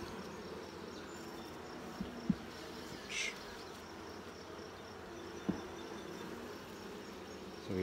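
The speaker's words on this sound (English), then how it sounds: "These bees have been busy." A steady, low insect hum fills the clip, like many honey bees buzzing close by at a hive, with a few soft knocks and one brief higher rustle.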